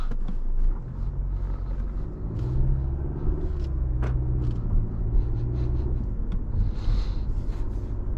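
A 2019 Mazda6 Signature sedan driving on the road, heard from inside as a steady low engine and tyre rumble with faint road noise and a few light clicks throughout.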